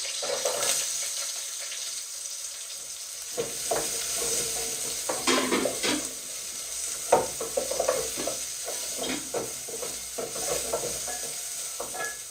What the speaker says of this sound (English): Then we add in our onions.